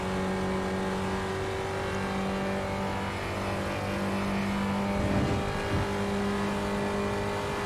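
A Spec Racer Ford engine at Circuit de Spa-Francorchamps in the iRacing sim holds a steady, droning note that swells slightly partway through, with no voices.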